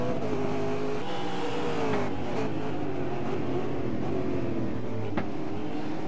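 Touring-category race cars in a racing game roar together in a loud, continuous blend of revving engines that shift pitch as they run close to one another.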